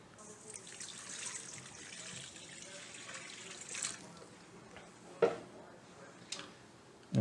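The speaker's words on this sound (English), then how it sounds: "Then I'm gonna pour the lukewarm water in there." Lukewarm water pours into a mixing bowl holding yeast for bread dough, a soft steady trickle fading out, followed by a couple of sharp knocks near the end.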